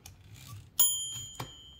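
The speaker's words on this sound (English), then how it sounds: "this Klein Urania, for example, where it does have a bell" Margin bell of a Klein Urania typewriter rings out with one bright metallic ding that rings on, followed by a softer second mechanical clack, close and alone with no talk.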